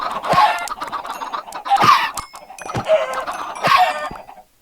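Baby chickens in a Minecraft-style video game cluck and cheep in three loud bursts spaced about two seconds apart, with smaller chirps between them and no talk over them.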